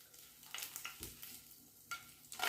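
Ginger and garlic fry in a small spoonful of oil in a pan, giving a quiet sizzle broken by brief scraping and stirring bursts.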